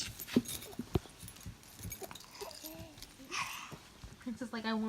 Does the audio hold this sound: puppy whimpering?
yes